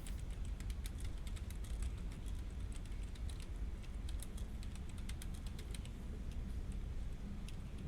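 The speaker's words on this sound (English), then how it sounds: "Sorry, I'm typing." Rapid, steady clicking of keys on a computer keyboard continues under a constant low background hum, with no talking heard.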